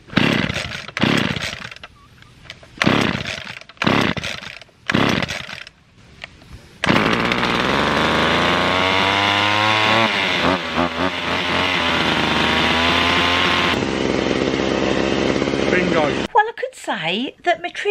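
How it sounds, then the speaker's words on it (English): A rebuilt old chainsaw is pull-started several times in short bursts, then catches and runs with a loud revving buzz before cutting off abruptly. A person speaks briefly. "So I've just rebuilt my dad's old chainsaw."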